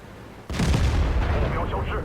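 A tank cannon firing in a tank video game, one sudden loud boom that rolls on into a long rumbling decay, close and dominant.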